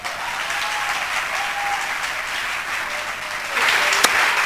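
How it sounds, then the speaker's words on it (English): Sustained audience applause fills the room, steady throughout and swelling a little louder near the end, with no speech over it. "We can increase the volume of our clapping."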